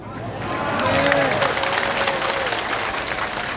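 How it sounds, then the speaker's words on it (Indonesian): An audience at a religious gathering in Madinah breaks into applause, a loud, steady spread of clapping from many people with a voice speaking over it. "Ibu tepuk tangan, bapak nih"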